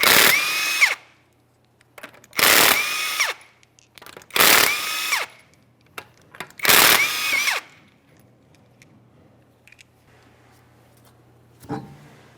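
An impact tool spins lug nuts off a 2015-2019 Subaru Outback rear wheel in four loud, close bursts of about a second each, with short gaps between them, followed by quiet and a faint clink near the end.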